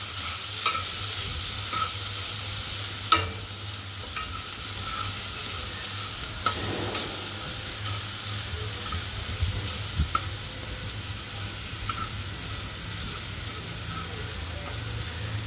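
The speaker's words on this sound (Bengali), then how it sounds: "এরপর আমি মশলাটাকে কষাবো।" Ground spices such as turmeric and cumin fry in a pan for mung dal, giving a low steady sizzle while a spoon stirs and taps the pan now and then over about fifteen seconds.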